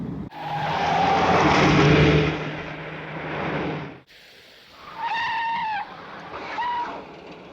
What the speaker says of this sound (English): Look, there's a car coming towards us